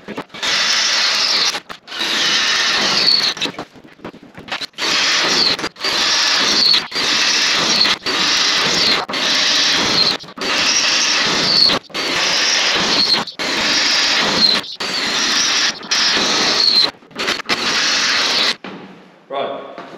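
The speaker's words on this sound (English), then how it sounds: "I've marked all of those holes and I'll come down through and drill them out now" A drill bores marked holes through steel chassis bars for a 4x4 chassis dyno in loud, steady grinding runs of about two seconds each, separated by short pauses. The drilling stops near the end.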